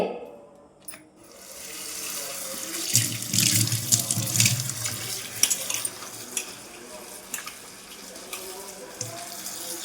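Water from an overflowing tank filled by a motor pours out in a steady, close rush, splashing and gurgling with scattered sharp drips and spatters.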